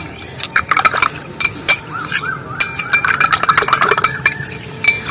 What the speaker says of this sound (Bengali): আর এইভাবে চামচ দিয়ে আমি চিনিটা গলিয়ে নেব।